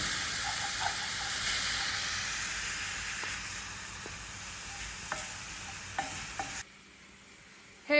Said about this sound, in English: we're getting some smoke coming from this, but it's not burning yet, it's just steaming actually